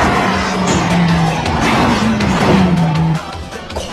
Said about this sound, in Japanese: あの音、八六ターボか。